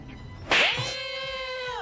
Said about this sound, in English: Why is he just slapping the shit out of her?